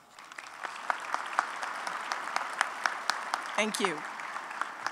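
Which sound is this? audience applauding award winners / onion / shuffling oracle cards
audience applauding award winners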